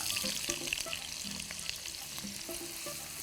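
Sliced onions sizzle in hot vegetable oil in a pan, a steady crackling fry broken by faint scrapes and clicks of a spoon, with no talking over it.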